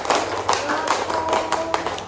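A group claps hands in a classroom clapping game, quick rhythmic bursts of claps in sets, with chanting voices over them.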